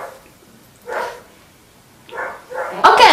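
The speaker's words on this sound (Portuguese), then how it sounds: "Damn dog." Dog barking indoors in a few short bursts, near and moderately loud, ending in a louder sharper bark, with a person's voice mixed in.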